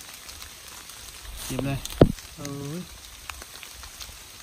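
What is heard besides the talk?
rain falling in forest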